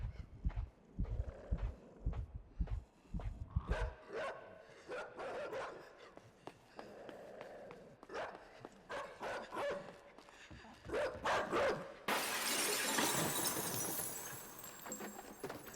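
A dog barks repeatedly in the side-scrolling game Inside, mixed with footsteps and game effects, the barks growing more urgent before a loud burst of noise near the end.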